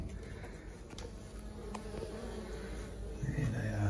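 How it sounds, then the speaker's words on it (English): A steady low buzzing drone of many bees inside a bathroom wall, muffled as if enclosed, continuous and fairly faint with a few small knocks. "I can hear the bees. They know something's up."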